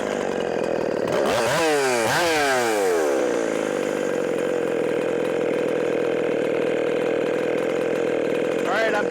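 A small farm-hack engine, just adjusted for a higher idle, starts with a few rising revs and then settles into a steady, loud, close idle drone that runs without a break to the end.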